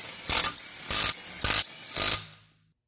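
Impact gun tightening wheel lug nuts on a 2006 Mitsubishi Lancer Ralliart, four short loud rattling bursts in an even rhythm, close by, ending in quiet.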